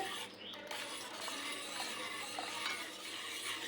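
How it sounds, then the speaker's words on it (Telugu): A wire whisk stirs custard powder into milk in a pan on the stove, making a faint, steady swishing and light scraping throughout with no talk. "ఇలా విస్కర్తో కలుపుకుంటే చక్కగా కలిసిపోతుంది"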